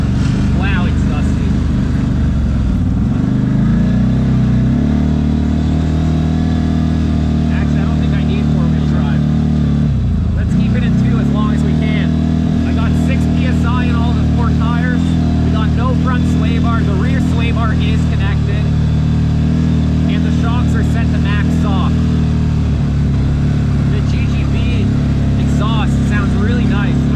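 CFMOTO Z-Force 950 side-by-side in low-range four-wheel drive on a dusty off-road trail, a loud steady engine drone that dips and surges with the throttle, with people talking over it throughout.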